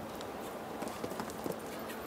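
Horse hooves landing and striding around a 1.60 m show jumping grand prix course in Doha, a few soft thuds rising out of steady arena ambience with faint background voices.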